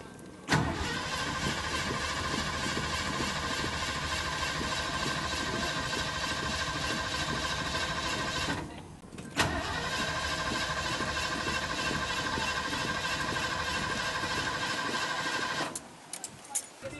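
A Ford LTD engine cranking but not starting after a carburetor rebuild, a loud, rapid, rhythmic starter churn running in two long bursts separated by a short pause.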